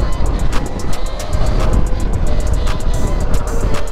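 An electric Yamaha YZ85 supermoto is ridden hard outdoors, giving a constant close roar of wind and rolling noise with a faint motor whine and no engine note.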